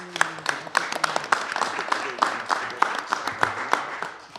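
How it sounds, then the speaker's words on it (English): Audience applause at a public meeting on the cost of housing, a steady patter of many hands clapping, moderately loud and continuous, with no talk over it. "I know that applause is for our last speaker and not for me"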